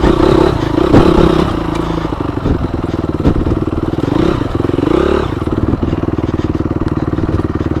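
A Honda CRF 250 dirt bike rides up out of a trail at St Joe State Park, its engine loud and close with a steady buzzing drone, rising and falling slightly under load, and some clatter.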